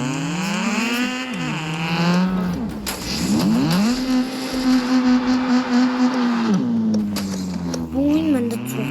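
Video game car engine revving and shifting pitch, dropping and climbing through gears with a buzzy harmonic tone, loud and close, while voices chat over it at times.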